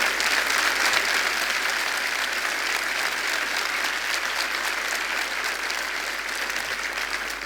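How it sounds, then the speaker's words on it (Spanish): A church congregation applauds at a pastor's call, producing a dense, continuous wash of clapping that holds steady throughout at moderate volume, with no voices standing out. "Dale fuertes aplausos al Señor."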